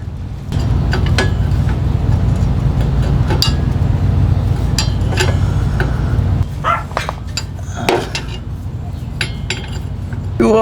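Metal wrench and socket clinks from taking the four 15mm bolts out of a strange aluminium 9 inch differential center section, with scattered sharp taps and scrapes over a steady low background rumble.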